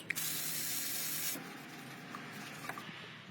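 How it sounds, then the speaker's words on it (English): Tecpo brake cleaner sprays in one long, loud, steady hiss for over a second in a Maserati oil-change setting, then gives way to faint clicks and quiet handling. "Tecpo, brake cleaner, best product."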